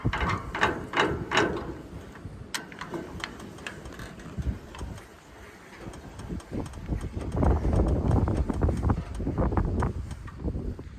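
Unhitching a trailer from a truck: close clicking ratchet and metal mechanism sounds, irregular and clattering, with wind noise buffeting the microphone.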